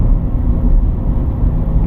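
A car engine hums and rumbles steadily from inside the vehicle during a driving lesson on a rural road, a loud, even drone with no voices over it.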